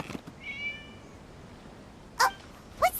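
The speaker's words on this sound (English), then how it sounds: "It was just a cat." A cat in Genshin Impact gives a single short meow early on, followed by a couple of brief, sharper game sound effects, with no talk.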